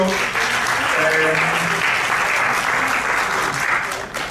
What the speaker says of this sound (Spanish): Sí, muchas gracias, un aplauso.